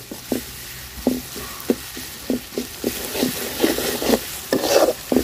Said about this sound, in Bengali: মশলাটা ভাজা নিব সুন্দর করে। লাল মরিচ এই কারণে দিছি